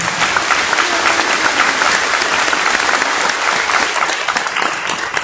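An audience at a school board meeting applauds with dense, steady clapping that fills the room and fades slightly toward the end.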